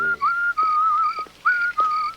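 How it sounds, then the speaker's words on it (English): A person whistles a bright, wavering tune in several short phrases with brief pauses between them, close and clear. "You can whistle away now."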